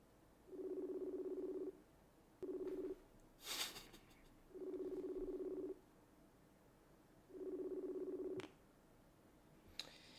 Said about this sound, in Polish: Dzwońmy do udziałowca yy, e, Goats.